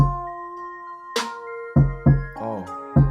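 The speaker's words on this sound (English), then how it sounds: "And then we throw the snare on there. And we'll throw the kick in there" A hip-hop beat in a Slink Proper style plays alone: a sharp snare crack, then several punchy kick drum thumps in a loose rhythm over sustained melodic synth tones.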